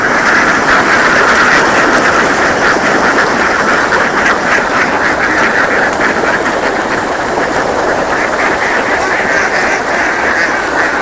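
A large flock of ducks on a duck farm quacks continuously and loudly, forming a dense overlapping chorus close by that never lets up.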